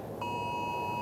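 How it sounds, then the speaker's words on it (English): A phone emergency alert for a tornado warning sounds during severe storms, a steady piercing electronic tone that starts abruptly and holds loud and unbroken over a low background hum. "We just got an emergency alert."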